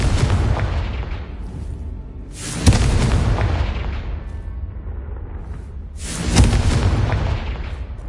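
Repeated blasting-spell explosions in the video game Hogwarts Legacy: two loud booming blasts a few seconds apart, each with a sharp crack and a long rumbling decay over a constant low background.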